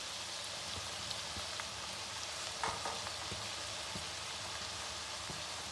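Beef sizzles steadily in a hot pan with green chillies and ginger, a dense crackling hiss running throughout with a few soft stirring knocks and no voices.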